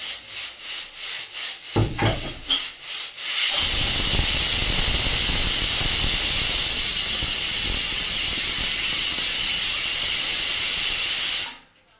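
A pressure cooker of dal lets out a loud, steady whistle of escaping steam lasting about eight seconds, preceded by a few light clatters and ending abruptly.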